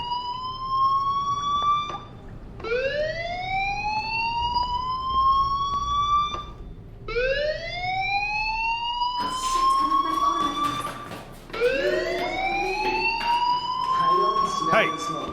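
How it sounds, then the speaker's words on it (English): Repeating electronic fire alarm in the video game Life is Strange, a series of rising, whooping tones in bursts of about two seconds, loud and close, with a harsher layer of noise coming in toward the end. "Hey, do you hear that fire alarm?"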